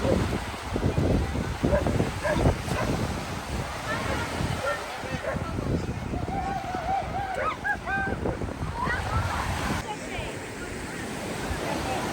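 Sea waves wash steadily on Bournemouth beach, a broad continuous surf roar mixed with gusty wind buffeting the microphone, while people talk nearby and birds call briefly in the middle.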